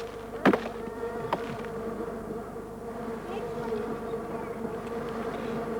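Sugarbag bees hum in a steady, close buzz at a native bee hive in the Australian bush, a few sharp taps near the start and no talk.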